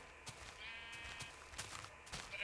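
Several quiet bleats from sheep in the video game Minecraft, spaced unevenly through the moment, a wavering call near the start followed by sharper short ones.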